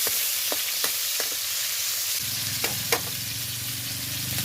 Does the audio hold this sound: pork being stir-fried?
yes